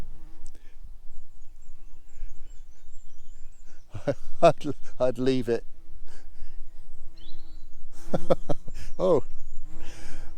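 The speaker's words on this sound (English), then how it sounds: "we're obviously annoying a bee" A bee buzzes close by on a woodland walk in the New Forest, a steady insect drone that sits under people talking and fades in and out as it circles.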